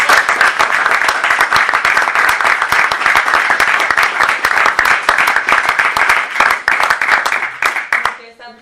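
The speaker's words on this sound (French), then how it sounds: "c'est vraiment important de leur donner une bonne main d'applaudissement" Loud, dense applause from a conference audience at a closing address, honoring the event's founders: steady rapid clapping from many hands, close and full, holding strong before tapering off abruptly at the end.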